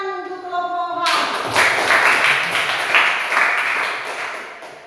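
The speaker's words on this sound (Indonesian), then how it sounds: "Tepuk tangan untuk kelompok H." A classroom of students claps for group H after a lesson, a brief tone first, then a dense burst of close hand clapping that swells and fades over a few seconds.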